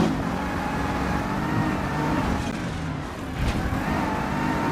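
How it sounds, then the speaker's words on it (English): A car in a racing video game accelerates with a steady loud engine drone and a high turbo whine running continuously over it, with no talking. "Can you hear that turbo whine?"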